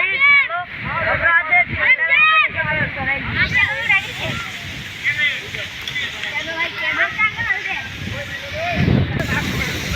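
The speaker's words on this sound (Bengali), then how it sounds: "দেখেন ঠান্ডা বলে এখন এই বাতাস দেখেন কীরকম ছুটছে একবারে জোরে" Strong wind sweeps through a village with a loud, steady rushing roar that runs the whole time beneath a person's continuous talking.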